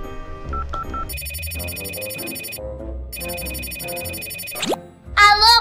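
Telephone ringing comes through while a call to the police is placed, bursts of electronic trilling tone repeating in two long stretches over background music, with a sliding sound effect and a short voice at the end.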